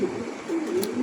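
Pigeons at a pigeon farm coo softly and steadily through a brief moment, a low rolling call that stays close and continuous with no talk over it.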